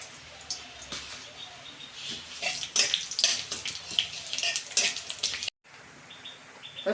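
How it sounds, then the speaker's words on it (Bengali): Chopped snake gourd dropped into hot oil tempered with bay leaf and panch phoron for a Bengali vegetarian dish, giving a loud, steady hissing sizzle with crackles that cuts out abruptly near the end. "ওই ফোড়নের মধ্যে আমি এইগুলো দিয়ে দিচ্ছি, সবজিগুলো।"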